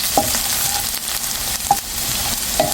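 Garlic frying in plenty of hot oil for a restaurant-style karahi meat dish, a close, continuous sizzle with a few small crackles and pops, heard alone without talk.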